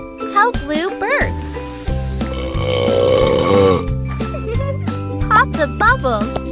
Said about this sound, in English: Help Lou burp.